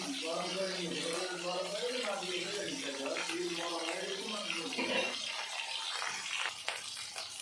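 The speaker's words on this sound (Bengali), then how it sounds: "তেল গরম করে নিয়ে একটু মাছগুলো ভেজে নিচ্ছি" Pieces of bhola fish fry in hot oil with a steady, hissing sizzle that continues throughout, while a voice talks over it.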